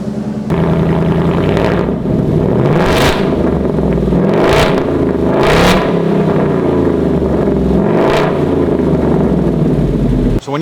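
A 2024 Mustang GT 5.0 with a straight-pipe exhaust, resonator deleted and no X-pipe or H-pipe, idles with a loud, rough rumble and is revved sharply four times in succession, each blip rising to a raspy roar.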